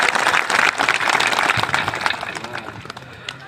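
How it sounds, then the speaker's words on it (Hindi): Rally audience applauding a speaker at a police-station protest gathering, a dense, loud burst of clapping that holds steady and then thins toward the end, with faint voices underneath. "जोरदार तालियां बजाएं इनके लिए"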